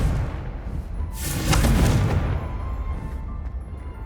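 Confringo blasting curse in Hogwarts Legacy erupts as a heavy booming explosion that swells to a loud peak, then rumbles and fades over a few seconds, with no voices over it.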